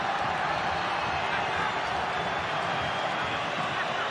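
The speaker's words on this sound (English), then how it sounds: "Crowd again trying to rev the players up" At a Thailand v Australia U23 football match, a stadium crowd keeps up a constant, dense roar of cheering and shouting that never lets up, with no distinct voice standing out above the noise.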